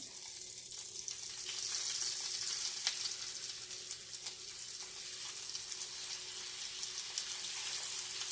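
Lamb chops sear in a hot pan, a steady close sizzle and crackle of frying fat running throughout with no voices over it.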